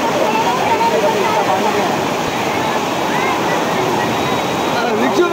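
Floodwater after a cloudburst in Thane, rushing over a road like a river: a steady, loud, broadband roar of torrential flow, continuous and close throughout.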